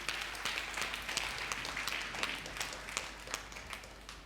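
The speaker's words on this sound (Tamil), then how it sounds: "கைத்தட்டுங்க பார்க்கலாம்." A church congregation claps together at a Sunday service, a dense run of brisk, fairly quiet hand claps with soft crowd murmur beneath.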